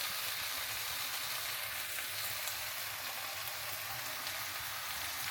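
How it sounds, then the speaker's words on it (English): Breakfast food fries in a pan with a steady, continuous hiss and crackle, close and even throughout with no talking. "Cooking on the pan."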